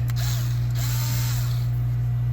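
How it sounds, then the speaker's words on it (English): A Ryobi 4V cordless screwdriver drives a fastener through an adapter and socket, giving a close, loud mechanical whir with a steady low hum and brief ratcheting clicks over about two seconds. "try to drive that with the Ryobi"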